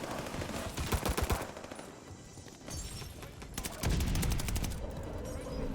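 DP27 light machine gun firing in the video game Call of Duty: Vanguard, several sharp bursts of rapid shots with a quieter gap in the middle, loud and close over game ambience.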